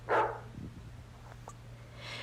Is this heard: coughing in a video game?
no